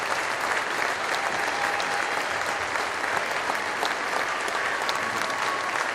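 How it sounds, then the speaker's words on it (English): A crowd at the 25th anniversary Nancy Rehm Border Wars Classic gives a steady, full round of applause for an 86-year-old honoree, dense clapping sustained evenly throughout. "As the crowd gives a nice round of applause for Tom Rehm, 86 years old."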